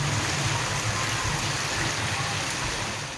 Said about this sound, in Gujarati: રસ્તા પર સતત પાણીનો પ્રવાહ વહેતો થતા વાહન વ્યવહાર પ્રભાવિત થયો છે।